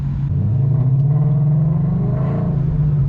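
A Ford Coyote V8 engine rumbles steadily with a deep, continuous drone and mild rising revs, loud and close from inside the car, with no voices.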